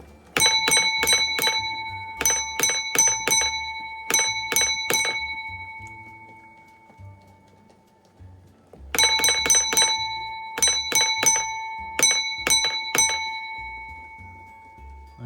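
Railway signal box block bell strokes rung in quick grouped patterns, a pause, then more groups; clear, bright and close, with faint background noise between.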